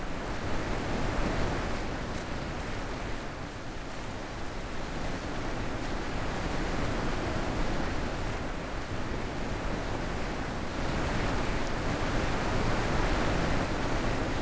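River water in the video game The Witness rushes in a steady, broad noisy wash, constant and fairly loud with no distinct splashes.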